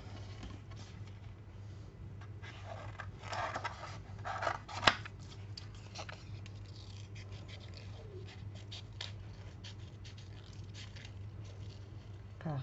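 Scissors snip and cut out a paper flower for a pop-up card, a series of close, quiet crisp snips and paper rustles in a soft, steady rhythm with one louder snip midway.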